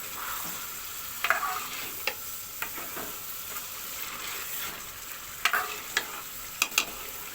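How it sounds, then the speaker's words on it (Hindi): Chicken sizzles steadily as it browns in a pot for a white korma, a constant hiss broken by sharp clicks and scrapes from a stirring spoon. "दो से 3 मिनट के लिए जो है वो हम चिकन को भून लेंगे इसमें।"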